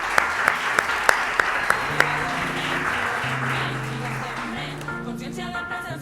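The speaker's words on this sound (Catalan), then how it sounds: "Un fort aplaudiment." An audience breaks into applause as a guest is called onto the stage at a live Catalan podcast event: a few sharp separate claps, then a steady, loud wash of clapping over background music.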